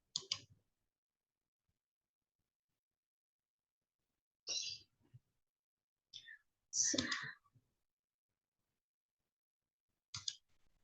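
Computer mouse clicks made while working through menus in statistics software, sounding as a few short, sharp, close clicks in separate bursts with quiet gaps between them.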